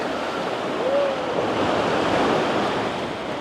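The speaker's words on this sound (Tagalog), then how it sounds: "Ang lakas ng alon." Strong high-tide ocean waves on Patar Beach in Bolinao wash in a steady, loud roar with wind noise and no clear talk.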